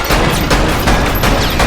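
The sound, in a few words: gunfire from the VR video game Lethal VR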